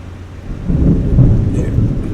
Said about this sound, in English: It's lightning, it's thundering.